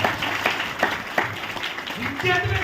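A church congregation claps in a steady, even rhythm of sharp hand claps, with a voice talking loudly over it.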